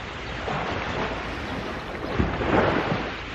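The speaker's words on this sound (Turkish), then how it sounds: "Şu denizin sesi huzuru yok mu ya?" Rough, continuous wash of sea waves and wind noise, with a slightly louder surge of surf near the end.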